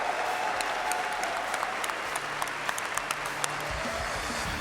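Audience at an esports major applauding FaZe Clan, sustained dense clapping from a large crowd that begins to fade toward the end as a voice comes in.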